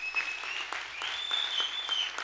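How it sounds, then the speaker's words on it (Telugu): Audience applause for the cameramen at a speech event, a dense, steady patter of many hands clapping, moderately loud and sustained for a couple of seconds with no talking. "గట్టిగా చప్పట్లు కొడదాం కెమెరామ్యాన్స్కి"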